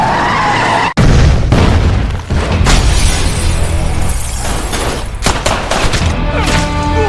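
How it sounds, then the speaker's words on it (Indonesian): Dense bursts of gunfire and sharp impacts fill a gunfight inside a gangster's house in an action film, with crashing, shattering debris and booming hits following in rapid succession, loud and close. "Baku tembak senjata pun terjadi di dalam rumah Tang"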